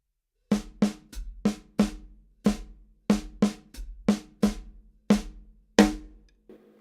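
Single drum strokes beat out a syncopated reading rhythm from Ted Reed's Syncopation book, about a dozen sharp, resonant hits in an uneven pattern, close and clear with no talk, each decaying quickly.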